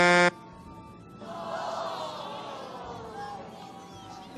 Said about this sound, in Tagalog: Grabe naman yung busina na yun.